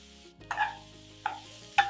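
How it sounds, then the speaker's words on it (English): Cabbage and peas being stir-fried in a pan over medium heat: three short bursts of stirring and sizzling, spaced about every half second to second, close and moderately loud, with no talk. "Add vegetables and stir on medium heat."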